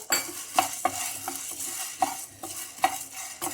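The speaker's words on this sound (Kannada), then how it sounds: "ಈ ಮೆಣಸು ಕೂಡ ಚಿಟಿಪಿಟಿ ಅನ್ಬೇಕು, ಅಷ್ಟುವರೆಗೂ ಸ್ವಲ್ಪ ಹುರಿಯೋಣ." A spoon stirs black pepper as it roasts in a pan for rasam, and light crackles sound over a soft sizzle. A few sharp metallic scrapes mark the stirring, close and fairly quiet.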